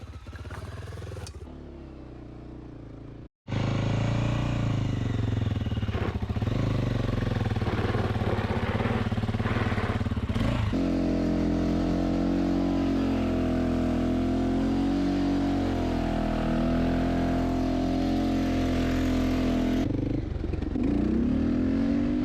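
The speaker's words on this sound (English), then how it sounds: "Got this here Honda XR 600R." A Honda XR 600R dirt bike engine idles briefly, cuts out, then fires up loud and close, running with a rough, steady thump and a few rev changes before dropping off near the end.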